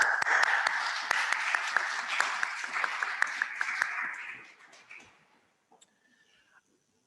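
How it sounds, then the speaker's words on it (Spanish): Audience at a lecture on the Temple of Artemis breaking into loud, dense applause that carries for several seconds, then thins out and fades to near silence with a few scattered claps at the end. "Este gigantesco aplauso para todos vosotros."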